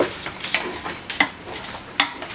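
A spoon clicks and scrapes repeatedly against a pan while tomato paste is stirred into a hünkar beğendi dish, with a soft sizzle behind the clinks.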